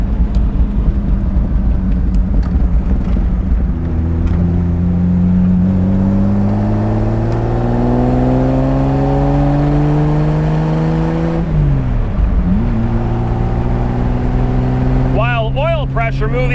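A modified 1953 Jaguar XK120 SE fixed-head coupe with fuel injection and a five-speed gearbox drones along at about 3,200 rpm and 40 mph, a loud steady engine hum that rises through the gears, heard from inside the car.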